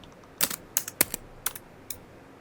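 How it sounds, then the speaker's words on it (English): Computer keyboard keys struck in a quick irregular burst of sharp clicks, with one harder thump of the enter key, close and clear with no voices. "Ooh, that enter sounded okay. So it sounded like his keyboard got abused on that one."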